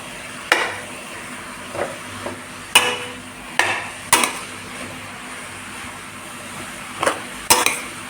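A spoon stirs grated carrot halwa in a metal pan on a stove, giving sharp, irregular clanks and scrapes against the pan, about eight distinct knocks spread out over a soft, steady background hiss.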